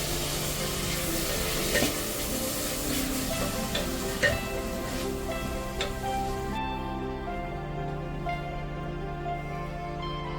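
Chopped tomatoes go into golden-brown onions frying in a pan, with steady sizzling and scattered stirring clicks and scrapes; the sizzle softens partway through.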